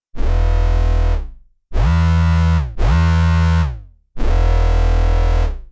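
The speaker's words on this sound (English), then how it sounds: "Our main hoover bass sounds like this." Hoover bass synth built in Ableton Operator, four loud sustained notes alone, each with a sharp onset and a fading or sliding tail, the second and third run close together.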